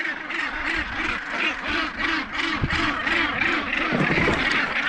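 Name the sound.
large colony of seabirds vocalizing at Bonaventure Island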